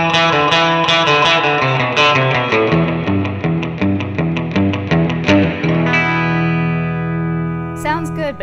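Electric guitar played through a Fender Mustang GT amp on a surf preset with twin reverb and '63 spring reverb, picking a quick run of bright, twangy, reverb-soaked notes, then a held chord ringing out before brief talk.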